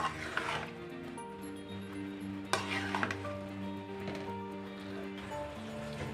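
Boiled spaghetti stirred into a creamy sauce in a pan, quiet scraping and soft sloshing over a faint sizzle, close by, with a steady tonal hum in the background.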